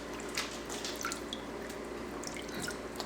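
Water drips and splashes in small irregular patters as freshly washed kale greens are shaken over a bucket, soft and close with no voices.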